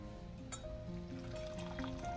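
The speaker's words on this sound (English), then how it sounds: "So we're just going to add some warm water in it." Warm water is poured into a pot while making chicken pepper soup, a soft, quiet trickling fill that runs steadily over faint background tones.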